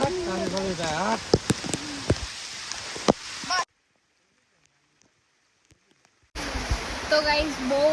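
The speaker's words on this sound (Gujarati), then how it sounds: "બહુ જ વરસાદ આવે છે" Heavy rain pours outdoors in Gujarat, a dense steady hiss of drops recorded on a covered phone. A voice speaks over it, and the sound cuts out to near silence for a few seconds midway before returning.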